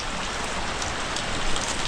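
Rain patters on an umbrella during an evening on a farm, a dense, even hiss of drops close by and fairly loud, with no voices.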